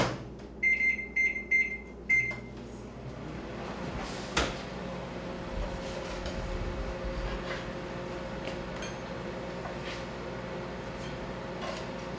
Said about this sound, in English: I'm going to pop it in the microwave for just a few seconds